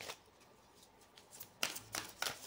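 Tarot cards being shuffled during a weekly reading, a soft papery riffle that grows into several brisk bursts in the second half, close and alone without talk.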